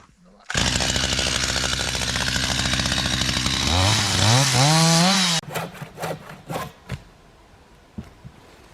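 Loud, close chainsaw sawing through a wooden plank to cut it to length for a ladder at a riverside island build site, a steady roar for about five seconds as the engine bogs and revs, then stopping, followed by faint scattered knocks and handling noises.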